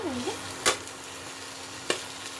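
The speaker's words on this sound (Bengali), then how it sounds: "আর এই যে এতটা ধনেপাতা দিয়ে দিলাম। ভালো মতো মিশিয়ে নেব।" Aubergine pakora filling being mixed in a pan with sugar and coriander leaves, soft sizzling under two sharp scraping stirs of a spoon against the pan, with a short voice at the very start.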